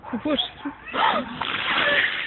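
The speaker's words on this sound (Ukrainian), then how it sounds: "знаю, що треба виливати воду" A bucket of water is poured out and splashes onto the ground in a loud burst, with voices talking over and around it.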